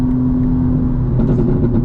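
A 900 hp 2025 BMW M4 Competition xDrive accelerates at night, a steady, loud engine drone heard from inside the car with a faint hiss of road and wind noise.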